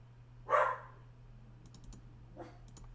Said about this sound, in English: My dog's barking in the background.